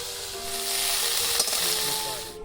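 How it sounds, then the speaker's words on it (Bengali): Cauliflower frying in hot oil for a village fish curry, a close, steady hiss of sizzling that holds evenly and cuts off at the end. "কপিটা ভেজে নিচ্ছি আমি।"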